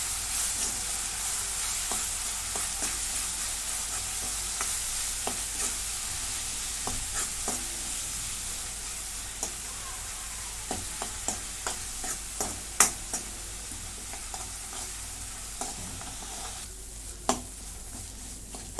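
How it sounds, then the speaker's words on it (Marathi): A ground spice paste sizzles as it is roasted in oil until reddish for a val bean curry, giving a steady frying hiss throughout, with scattered sharp clicks and scrapes of stirring that grow more frequent toward the end. "आता हे वाटण पण भाजून घेते चांगलं लालसर"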